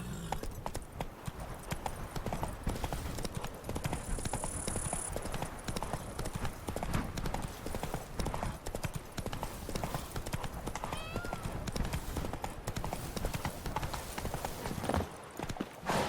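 Horse hooves clip-clopping steadily in the video game The Witcher 3: Blood and Wine, a continuous trotting rhythm with a brief whinny, close and clear throughout without talk.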